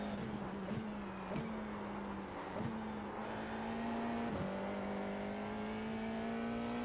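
An FIA F4 single-seater race car powers out of a corner at Oulton Park, its engine note climbing steadily through repeated upshifts, a close, sustained whine from onboard.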